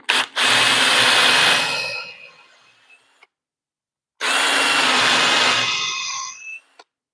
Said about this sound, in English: This is a Forstner bit here.